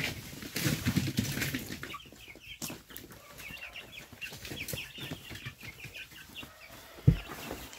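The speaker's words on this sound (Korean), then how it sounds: "닭은 저렇게까지 반응을 안 하는데 꽁은 여전히 야생성이 살아있기 때문에 난립니다" Penned pheasants at feeding time flapping their wings and squawking in a continuous flurry of wingbeats and calls, with scattered clucks and a sharper bump near the end.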